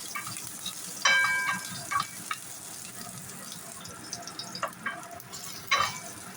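Garlic frying in a pan, with a continuous close sizzle and a few sharp clinks and scrapes of a spatula against the metal.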